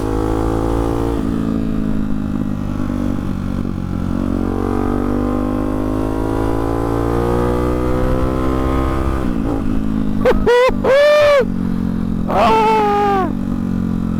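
A motorcycle fitted with a Hyper 698 S1 aftermarket exhaust idles with a deep, throaty rumble, then revs sharply several times in loud bursts close by.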